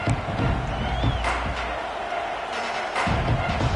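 Stadium crowd noise in a college football video game with Notre Dame's Irish, a broad steady roar of cheering fans after a kickoff, continuous and fairly loud, with occasional thumps.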